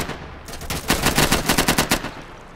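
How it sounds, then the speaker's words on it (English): Rapid automatic gunfire in the tactical shooter Insurgency, a dense, loud, close stream of rounds that breaks into distinct rhythmic shots toward the end of a couple of seconds. "I'm shooting people like crazy over here."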